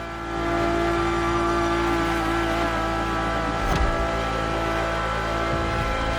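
Ferrari supercar engine in The Crew Motorfest racing game, heard from the cabin: a steady, loud, continuous droning hum with rich harmonics, holding a constant pitch with a brief rise near the middle and no talking.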